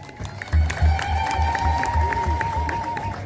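A church congregation at a St. Michael feast day celebration in Jimma claps hands in a quick, steady rhythm, with crowd voices and a sustained high vocal tone over the beat.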